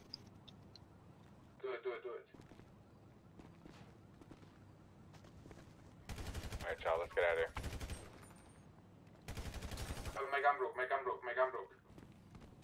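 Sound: gunfire in video game

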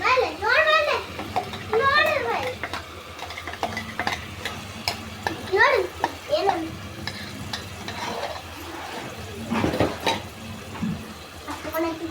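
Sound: stirring masala frying in oil

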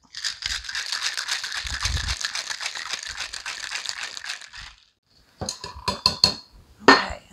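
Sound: cocktail shaker with ice and tequila being shaken

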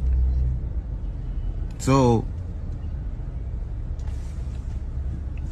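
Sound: car driving with the speaker inside

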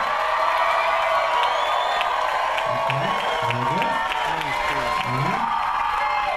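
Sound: crowd cheering

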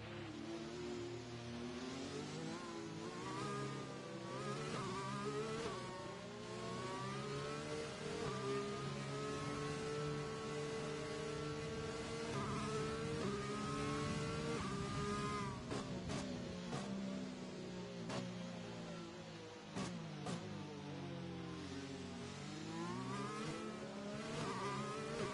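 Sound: race cars driving behind safety car in racing video game

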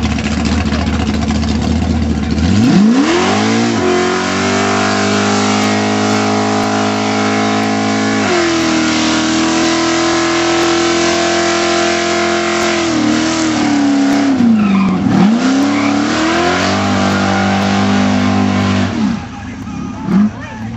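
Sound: drag racing cars accelerating at an airstrip

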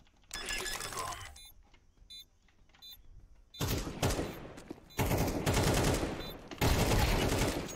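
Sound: gunfire in video game Counter-Strike 2

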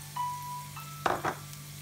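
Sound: chorizo with shrimps frying in a pan

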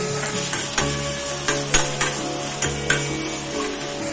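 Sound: sautéing garlic and onions in a pan for shark puttu

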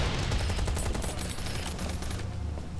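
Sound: gunfire in Last Island of Survival video game

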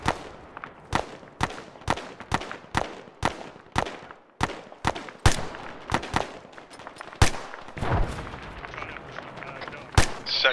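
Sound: deliberate gunfire during a military exercise

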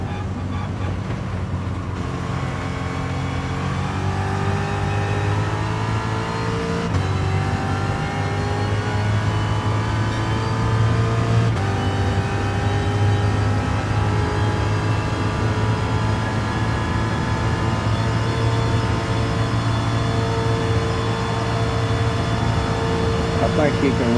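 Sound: Ford Mark 1 1966 race car engine in a racing video game

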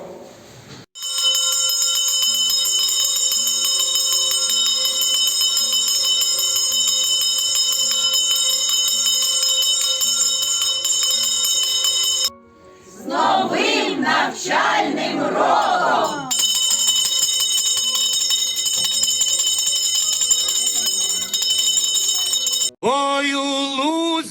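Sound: school first bell ringing for new school year

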